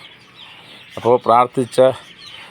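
Four short, quick bursts of clucking from young coloured-breed chickens close by, bunched within a second against a quiet background.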